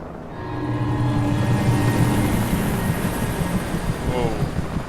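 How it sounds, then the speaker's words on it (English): A helicopter, apparently an FBI chopper in a video game, drones with a steady broadband rotor roar that holds loud and constant throughout, with no talk over it. "is that a helicopter I hear?"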